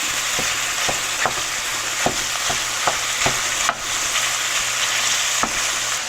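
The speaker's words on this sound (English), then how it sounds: "we're going to keep breaking down this sausage into crumbles and get it browned up" Sausage being broken into crumbles and browned in a pan, a loud constant sizzle with repeated scraping knocks of a utensil against the pan, no voices.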